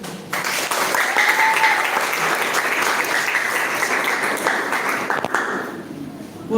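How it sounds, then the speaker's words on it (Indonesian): Sustained, loud applause fills a hall after the first poetry reading at a teachers' association anniversary and National Teachers' Day contest, holding steady for several seconds before tapering off. "Beri tepuk tangan yang meriah pada nomor pertama."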